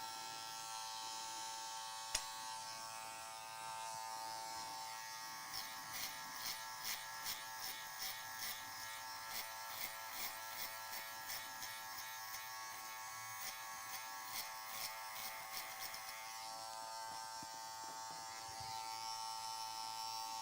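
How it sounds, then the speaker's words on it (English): An electric hair clipper buzzes steadily up close as it is worked at an angle around a man's ear, with a pulsing series of short cutting bursts through the middle stretch and no talking. "I'm going to work that clipper at an angle around his ear"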